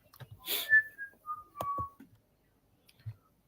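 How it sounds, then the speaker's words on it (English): A person whistles a short, clear tune of a few sliding notes, alone and close, with faint clicks between the phrases. "Whistle."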